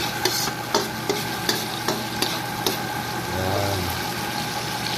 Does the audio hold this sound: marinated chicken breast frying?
yes